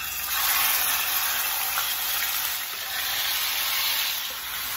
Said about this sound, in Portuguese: Vou colocar ela na panela, né, pra começar a fritar.